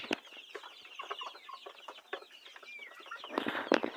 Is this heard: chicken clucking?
yes